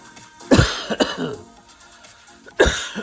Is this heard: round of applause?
no